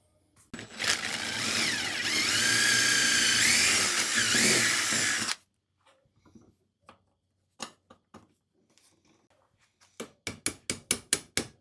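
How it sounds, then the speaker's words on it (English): A power drill runs loudly up close for about four seconds, then cuts off, followed by scattered clicks and a quick run of sharp taps. "Now we'll come to the other side and drill it."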